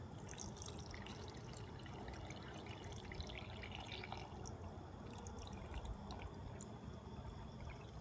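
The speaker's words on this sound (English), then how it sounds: "pour it into my water filter" Water pours into a water filter in a steady, faint trickle, a continuous soft splashing and dribbling with no pauses, quiet and close.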